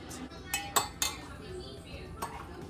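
A spoon stirs sea moss into tea in a cup, giving several sharp clinks against the ceramic early on and a lighter tap near the end, close and fairly quiet with no voices.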